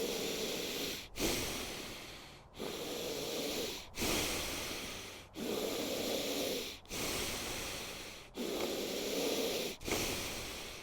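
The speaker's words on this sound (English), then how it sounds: "You should be breathing hard enough." Deep, forceful breaths rush in and out through the nose in a steady cycle during a guided breathwork session, each breath a long airy hiss with short pauses between them, close and loud, and no one speaks.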